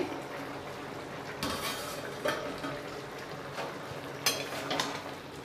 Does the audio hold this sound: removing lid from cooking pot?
yes